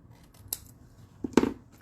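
Scissors snip through excess card paper while a handmade autumn greeting card with embossed leaves is trimmed, a faint snip followed by two sharper, closer cuts in a quiet room with no talking.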